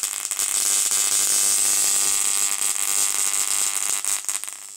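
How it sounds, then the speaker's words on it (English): A roughly three-inch electric arc drawn from a 4 MOSFET ZVS driver running on about 10 to 12 volts, producing a loud, steady, harmonic buzzing drone that holds almost throughout and wavers slightly at the end. "About a 3-inch arc."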